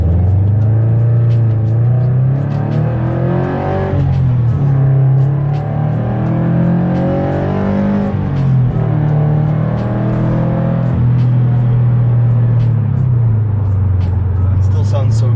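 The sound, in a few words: sports car exhaust during acceleration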